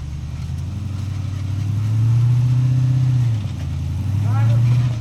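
An off-road rock-crawling vehicle works its way up the rocky Rattle Rock trail at Windrock, its engine droning low and steady and rising in a couple of revs.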